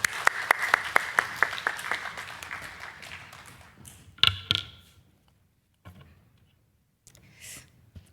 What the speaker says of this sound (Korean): 우리 박수로 격려해 주시겠습니다.